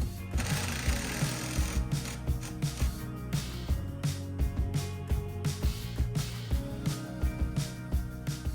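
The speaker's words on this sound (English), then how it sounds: "you just wanna lower it so that when the screw catches, it sucks the wood back up" A screw being driven into pre-drilled wood during a homestead bulkhead build, producing a close, rapid, rhythmic ratcheting clatter of the driver that repeats steadily throughout.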